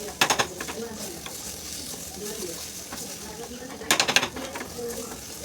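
Masala with curry leaves, hing and turmeric fries in hot oil, a continuous crackling sizzle broken by two sharp bursts of clattering as a utensil stirs and scrapes the pan.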